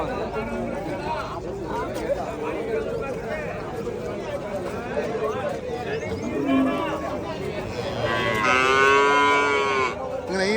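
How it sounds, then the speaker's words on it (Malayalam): Cattle mooing and lowing at a busy outdoor livestock market, with people talking over them and one long, loud moo rising near the end. "നല്ല പശു വലിയ പശു"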